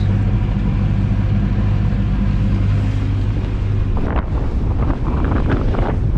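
Strong wind roars across the microphone on a sailboat motor-sailing almost straight into a 15-knot headwind off Denmark, mainsail double-reefed and engine steady at 2000 RPM, a low continuous engine hum beneath loud gusting buffets that thicken toward the end.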